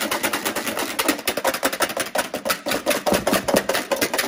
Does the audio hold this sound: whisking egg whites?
yes